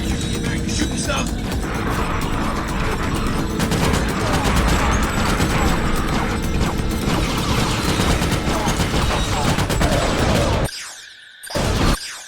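Dense, continuous gunfire and blasts from the video game Ratchet: Gladiator, loud and close, sustained almost throughout before cutting out briefly near the end, with game dialogue mixed in.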